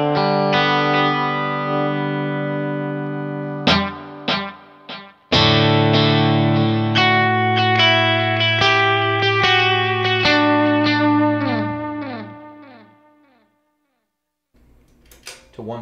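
Electric guitar run through a Kemper amp's single delay effect: distorted sustained chords and picked notes ring out with repeating echo tails, then fade to near silence before a faint return at the end.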